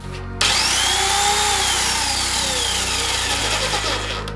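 A loud YamaMoto electric chainsaw starts up and runs steadily, a high whining motor hum that holds constant with slight shifts in pitch.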